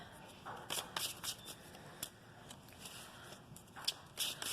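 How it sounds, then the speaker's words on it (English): Tarot cards being shuffled by hand, a run of crisp papery riffles and flutters in irregular bursts, close and fairly quiet with no talk over them. "Let's get another tarot card."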